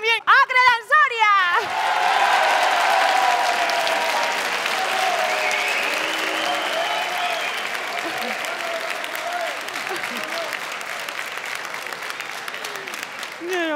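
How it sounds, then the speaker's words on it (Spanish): Loud, sustained applause from a studio audience at a televised Spanish village beauty contest gala, following a presenter's brief announcement and carrying on steadily with crowd noise until the end. "Y fuerte el aplauso también a Agre de Soria."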